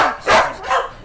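Two sharp dog barks ring out close by at a stray dog shelter, a short pause between them.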